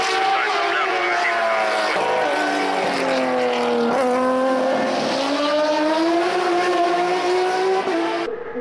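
A Turismo Carretera race car at Concordia revs hard and accelerates, its loud, close engine note rising through several gear changes in a continuous roar, with no talk heard over it.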